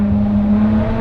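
Ferrari 599 GTO V12 engine on half throttle, a steady loud droning growl heard close from inside the car, holding one pitch throughout without talking.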